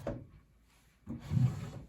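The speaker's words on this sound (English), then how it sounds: "And now the drawer slides perfectly smooth without scraping." A wooden drawer in an Art Deco dresser slides shut with a short rumbling scrape, then glides again a moment later in a longer, smooth, close-up slide.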